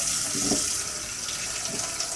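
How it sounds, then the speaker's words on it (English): Tap water runs steadily over disassembled Kuvings Silent Juicer parts at a sink, a continuous close splashing hiss with no talk. "I might just rinse it with water"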